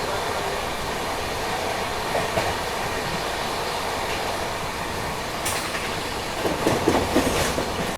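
Kushinagar Express train running on tracks, heard as a steady, loud rumbling roar with rhythmic clickety-clack of wheels and occasional faint squeals, continuous throughout without speech.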